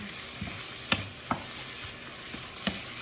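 Zucchini stir-fried in a pan, a steady low sizzle with a few sharp spatula clicks and scrapes against the pan, close and moderately quiet, with no talking.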